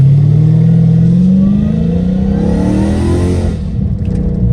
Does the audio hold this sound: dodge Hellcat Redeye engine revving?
yes